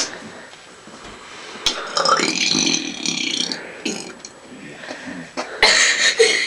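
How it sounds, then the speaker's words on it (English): Burps rumble out one after another in a playful burping contest between two children, some long and drawn out, close and loud, with brief spoken words and bits of chatter between them. "we're gonna say names and burp them."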